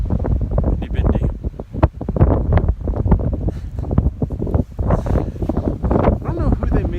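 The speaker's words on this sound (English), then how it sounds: "Getting a little windy." Gusty wind buffets the microphone in rough, uneven rushes, close and fairly loud throughout.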